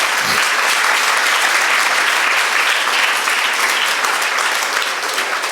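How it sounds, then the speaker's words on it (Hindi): Loud, dense audience applause at a Jain monk's public talk in Jaipur, steady and unbroken for over five seconds with no speech. "तालियां इतनी जोर से बजाइए कि कैमरे में आपकी आवाज रिकॉर्ड हो सके"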